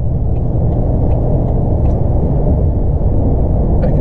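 A GM pickup cruises over a freshly paved stretch of road, heard from inside the cab as a steady low rumble and tire roar with a faint whir, constant and even.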